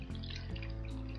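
Small pump-driven garden bird bath fountain, water trickling and splashing softly and continuously into the basin, quiet and close, with no voices.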